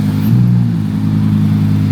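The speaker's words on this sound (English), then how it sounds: "Give it a rev." A car engine revs steadily nearby, a sustained mid-pitched drone holding for about two seconds while the car waits at a traffic light.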